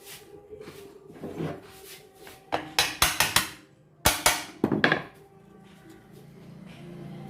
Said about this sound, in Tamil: இதை சுற்றி எடுத்து லேசாக தட்டினாலே உட்காந்துக்கும்